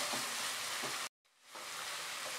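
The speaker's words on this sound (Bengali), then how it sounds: "মাঝারি আঁচে আমি কষাচ্ছি।" Dried fish and spices sauté over medium heat with a bright, continuous sizzle. A brief silent gap falls near the middle before the frying hiss returns.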